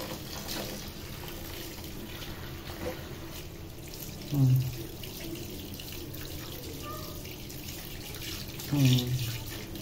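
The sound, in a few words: running tap water washing chicken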